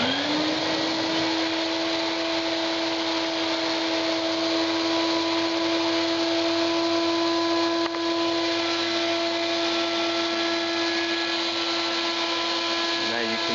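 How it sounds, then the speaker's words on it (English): A vacuum-forming rig's vacuum motor starts up and runs with a loud, steady high-pitched whine for several seconds before winding down at the end. "and then turn the vacuum on"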